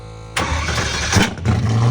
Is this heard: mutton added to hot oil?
no